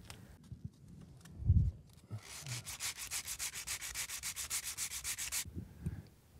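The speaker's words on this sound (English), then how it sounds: "So I've sanded everything down" Steady rhythmic back-and-forth rasp of sanding down fiberglass compound, close and fairly loud for several seconds after a few knocks and handling thumps, then stopping abruptly.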